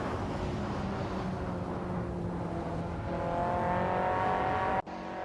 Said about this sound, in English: Hope you're ready for some exciting AI car racing action.